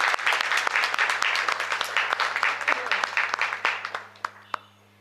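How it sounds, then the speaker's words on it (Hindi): A theatre audience applauds after a play at an IPTA Banaras drama festival, a dense burst of many hands clapping that thins into a few scattered claps before fading out, with a steady electrical hum beneath. "जोरदार तालियों के साथ"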